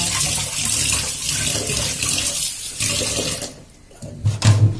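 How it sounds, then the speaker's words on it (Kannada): Lentils for dal being rinsed under running tap water, a steady broadband gush and splash filling most of the moment, thinning briefly near the end before a few louder sloshes as the grains are swirled. "ದಯವಿಟ್ಟು ಬೇಳೆಯನ್ನು ತೊಳೆಯಿರಿ"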